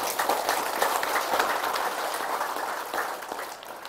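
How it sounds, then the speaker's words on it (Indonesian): Audience applause at a Balinese Hindu dharma wacana religious talk: steady, dense clapping that holds at an even level for several seconds before easing slightly at the end. "Tepuk tangan dulu nih."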